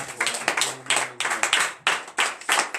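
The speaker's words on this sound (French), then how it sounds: "Donnez de vive acclamation." Rhythmic group clapping from a congregation during a morning prayer service in Benin, loud bursts in a steady repeating beat, close and alone without talk.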